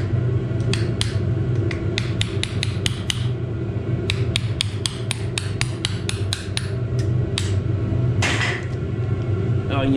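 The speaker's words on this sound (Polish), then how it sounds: "pomożemy sobie troszeczkę młoteczkiem" Repeated metallic hammer taps in quick bursts, sharp and close, with pauses between groups over a steady low mechanical hum, while fitting a bearing in an Ursus tractor gearbox differential.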